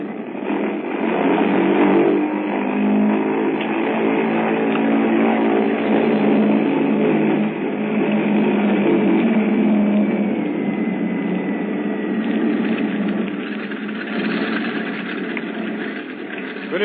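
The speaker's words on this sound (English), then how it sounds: "we were completing our engine run up at the head of the runway" Bomber aircraft piston engines run up at the head of a runway, a steady, dense droning roar held at constant power throughout, close and loud with no pauses.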